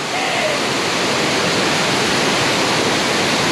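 Fukuroda Falls in Ibaraki, Japan roars at night, heard close up as a loud, unbroken wash of falling water that fills the whole scene.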